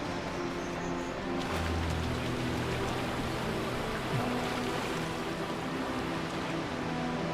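Steady rushing water from a waterfall in The Talos Principle video game, a continuous broadband wash at even loudness with no talk.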